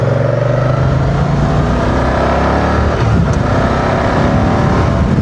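A 2025 Moto Guzzi Stelvio motorcycle accelerates on a rural road ride, engine loud and close with rising pitch as it pulls through the gears, steady wind and road roar underneath.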